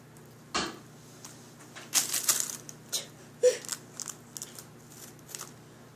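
A wrapped very cherry popsicle being cut open with scissors: a sharp snip, then a run of crinkly plastic crackles and small clicks, close and fairly quiet, with no speech.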